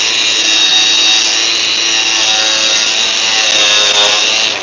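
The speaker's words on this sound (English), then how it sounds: "I'm on a live stream actually, sanding my trim." Wooden trim being sanded with a power sander: a steady, loud, close whirring hiss that runs unbroken throughout, with no talking.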